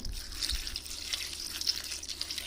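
Water pours steadily into a pressure cooker over washed sukkutti keerai greens for a chutney, a close, continuous splashing stream with no talking.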